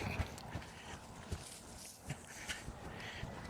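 A horse trots during a schooling session after a lope, its hoofbeats landing as a steady, evenly spaced clip-clop at moderate distance over faint background noise.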